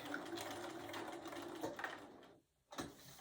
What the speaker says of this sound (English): And we're going to sew right to that edge.